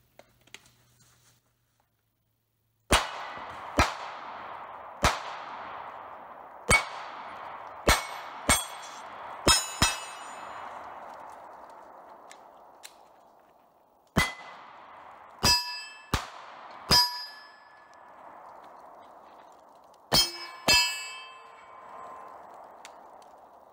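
Pistol shots from a Smith & Wesson Shield Plus and a Springfield CSX hit steel targets on a range: a string of sharp metallic clangs at irregular intervals, each leaving a long shimmering ring, with quiet gaps between bursts.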